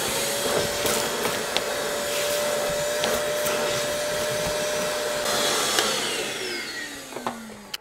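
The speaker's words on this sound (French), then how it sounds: "Donc aspirateur bien sûr." A vacuum cleaner runs in a car boot, sucking up fallen Christmas tree needles with a steady loud whine, scattered crackles and ticks as needles are drawn in, and the motor winding down at the end.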